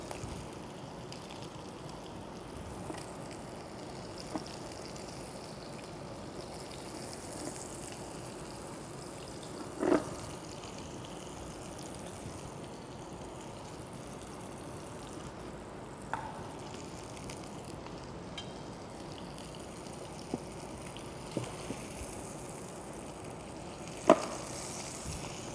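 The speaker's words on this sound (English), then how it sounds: "I'm going to finish the meatball in the sauce." Meatballs finishing in a simmering sauce in a Scandinavian cooking setting, a steady low sizzle and bubble running throughout with a few faint clinks of utensils, no talking.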